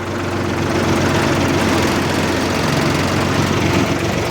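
Farm vehicle engine running steadily through a wet, waterlogged village field in Tamil Nadu, a loud continuous close-up drone with a low rumble and no talking.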